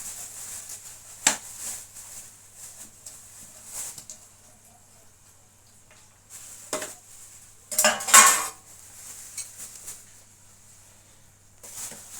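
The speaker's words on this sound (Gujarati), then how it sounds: "હવે આપણે ધાણા ભાજી નાખીએ છીએ ઓરામાં" A spoon stirs coriander leaves into eggplant bharta in a pan, with sparse scraping clinks against metal and a louder cluster of clattering strokes near the end, close and otherwise quiet.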